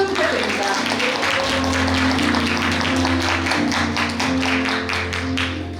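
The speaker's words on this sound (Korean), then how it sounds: "박수 부탁드립니다." An audience at a live poetry recitation contest applauds, heard as a dense, steady clapping of many hands that carries on for several seconds at moderate loudness, with a voice on a microphone speaking over it.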